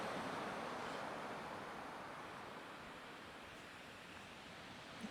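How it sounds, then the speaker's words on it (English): Ocean waves surge onto the shore at Hayling Island, a broad, steady roaring wash with no clear breaks, heard from close by with no voices. "it's really, really surging at the moment. There's some big old waves coming in."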